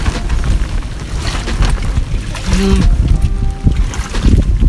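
Strong wind buffets the microphone in heavy, roaring gusts at sea off Bohol, Philippines, with a handline fishing boat's low rumble and splashing water beneath.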